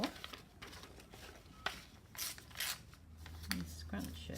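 Paper scraps are scrunched and crinkled by hand for a craft project, giving several short crackling bursts at close range with quiet pauses between them.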